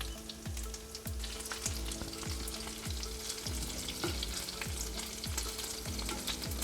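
Meatballs fry gently over low heat in a pan, a soft continuous sizzle punctuated by regular, evenly spaced clicks as they are turned.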